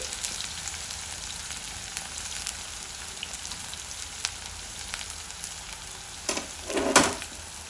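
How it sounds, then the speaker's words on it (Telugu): Thinly sliced onions frying in oil in a pan, a steady close hiss and crackle throughout, with a short stir and louder burst of sizzle near the end. "ఆనియన్స్ వేసుకొని ఆనియన్స్ మంచిగా దూరగా వేగేంత వరకు ఫ్రై చేసుకుందాం"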